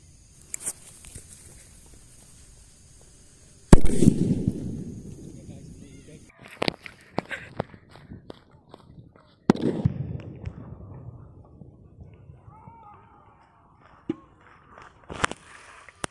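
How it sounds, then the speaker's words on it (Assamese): A large Diwali firecracker bomb set off beneath a steel container bursts with a sharp, loud blast followed by a rattling tail, then a second heavy bang, with scattered smaller pops and crackles between and after. "তো এইটো অলপ ডাঙৰ বোমাটো, সেইকাৰণে এইটো দি চাম। এইটো ষ্টিলৰ সাজটো হয়।"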